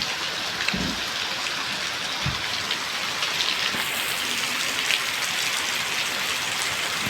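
Heavy rain pours down in an even, close hiss, with a couple of dull low thuds early on and steady intensity throughout.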